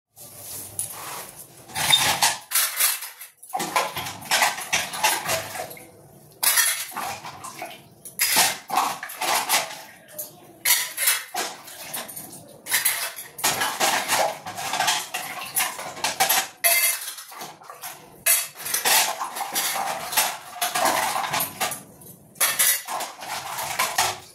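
Kitchen utensils, pots and cutlery are washed under water, with a steady run of clattering metal, clinks and splashing that continues close and fairly loud throughout, with no voices.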